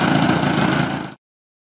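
A glow nitro engine on an RC model plane runs steadily at a constant, fairly loud buzzing drone, then cuts off abruptly about a second in, leaving silence.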